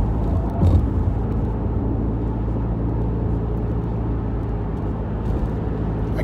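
A 2019 Subaru Crosstrek cruising on the highway at about 1500 RPM and 60 mph, its exhaust a steady low drone that fills the cabin along with road noise, even and continuous.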